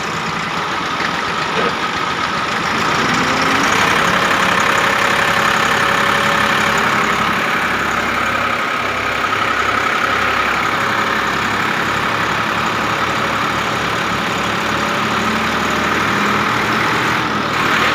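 A Belarus or Millat tractor engine idles loud and close while the tractor reverses, a continuous low rumbling drone with a rough, knocking pulse that stays steady throughout.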